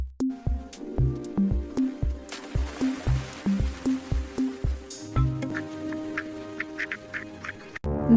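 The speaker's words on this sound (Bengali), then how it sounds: "আনন্দে প্যাক প্যাক করছে" Cartoon ducks in a Bangla animated story quack in a quick, evenly spaced run of loud, close calls, then higher chirpy peeps of ducklings follow, with no talking.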